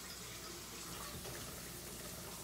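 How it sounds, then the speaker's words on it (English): Tap water runs steadily into a kitchen sink or pan for cauliflower rice, a soft continuous rushing stream heard close and alone. "I'm going to get some water for my cauliflower rice."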